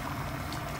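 Squash soup thickened with flour bubbling in a pot, a brief, dense, steady simmering burble heard close with no voices.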